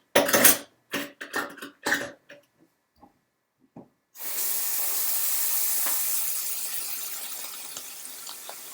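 Cold water runs from a tap into a sink as a steady, continuous broadband rush that begins partway through and fills the rest of the clip, preceded by a few short clattering knocks.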